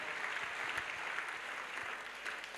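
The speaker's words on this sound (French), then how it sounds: "Acclamation." Applause from a church crusade crowd in Douala, a dense, steady wash of many hands clapping at moderate distance, running evenly without pause.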